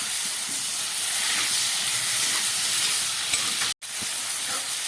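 Prawns with shells on fry in a pan over a gas flame turned up to medium, giving a steady close sizzle and hiss with a brief cut near the end.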